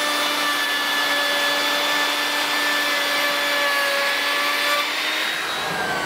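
Power saw cutting across a sheet of plywood in a straight line, a loud steady high whine held for about five seconds before it winds down near the end.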